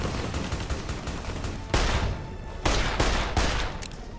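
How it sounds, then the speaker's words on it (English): Rapid strafing gunfire rattles in the game Fallout New Vegas, dense continuous shots with several heavier bursts breaking through. "Jesus, they're strafing me."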